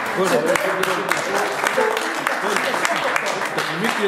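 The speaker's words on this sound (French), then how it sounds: "je passe la parole à Geoffrey, qu'il faut applaudir" An audience at a project launch event applauds a speaker taking the floor, a brief, even burst of many hands, with voices talking over the clapping.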